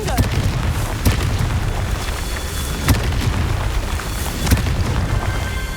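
Confringo spell blasts in the Hogwarts Legacy video game make dull booms over a dense rumbling game soundscape, with several sharper hits spaced a second or two apart.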